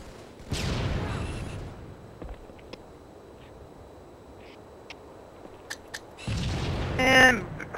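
Grenade blast in Halo 2, set off by another player's gunshot, lands as a loud broadband burst near the start, then quiet, then a second heavy burst of blast noise and ringing near the end.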